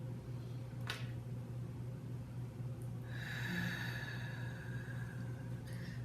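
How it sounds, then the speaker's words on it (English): A slow, deep inhalation during a guided meditation, audible as a soft, airy intake of breath near the microphone over a steady low background hum, with no speech. "take a deep breath in"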